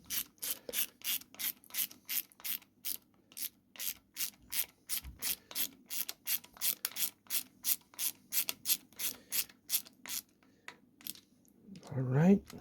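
A small hand ratchet tightens engine bolts on a Kawasaki ZZR 1200, giving rapid, evenly spaced clicking strokes up close in long steady runs, followed by a brief louder clatter at the end.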